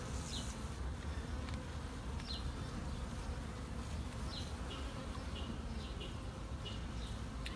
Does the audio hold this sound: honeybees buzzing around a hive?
yes